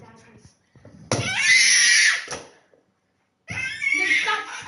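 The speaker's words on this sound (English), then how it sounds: "Stop screaming." A child lets out a piercing, loud scream that lasts about a second, breaks off, then starts again after a short silence. Voices talk briefly before the first scream.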